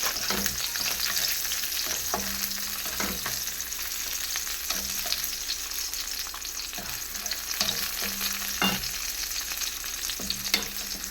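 Onion frying in a pan with curry gravy, a steady close sizzle with intermittent stirring and scraping knocks throughout, no voices.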